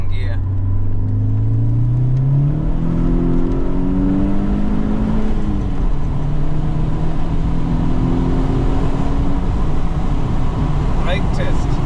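A Volkswagen Golf MK4 GTI accelerates hard in second gear, its engine note climbing steadily in loud, continuous roar with rising tones, heard from inside the car.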